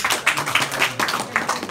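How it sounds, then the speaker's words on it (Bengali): Scattered audience clapping at a Sylheti cultural forum's inauguration event in the UK, a brief burst of many hands patting unevenly and fairly close, with no talk over it. "একটা হাততালি হয়ে যাক"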